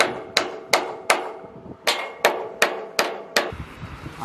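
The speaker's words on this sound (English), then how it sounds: "Hey, I need a hammer." A hammer strikes repeatedly during construction of a 24 x 48 pole barn, roughly eight or nine sharp, close, loud blows in a fairly steady rhythm with a short pause partway through, and no talking.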